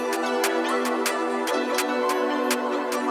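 Drill hi-hat pattern programmed in FL Studio, with every other hit's velocity turned down. Crisp hats tick in an alternating loud-soft pulse over a sustained bass and pad loop, steady and unbroken throughout.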